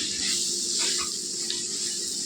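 Water pours steadily into a hot chili and oil mixture, a continuous close hiss and gush lasting a couple of seconds.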